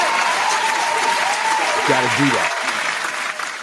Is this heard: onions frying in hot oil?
no